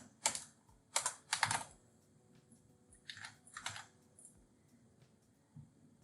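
Keys clatter on a computer keyboard in short, quick bursts of typing separated by brief pauses, close and fairly quiet, with no voices.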